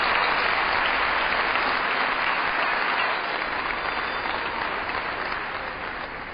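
A large audience at an award ceremony claps continuously, dense and even, then slowly tapering in loudness toward the end.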